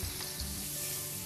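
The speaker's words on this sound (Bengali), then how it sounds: "গার্লিকটা এরকম ভাজা ভাজা হলে" Garlic paste fries in a little oil in a pan for roast duck noodles, giving a brief, steady close sizzle with faint stirring and no speech.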